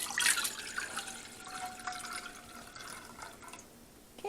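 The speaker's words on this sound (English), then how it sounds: "So pick it up careful and then gently pour it in." Fruit juice trickles and splashes as it is poured from a cup into a cooking pot for making jello, a steady liquid stream at close range with a brief louder splash at the start, no talking.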